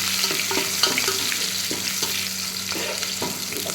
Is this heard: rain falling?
no